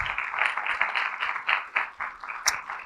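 A church congregation claps for Jesus after a sermon, a moderate patter of hands with distinct individual claps and uneven swells, fairly close and without speech over it.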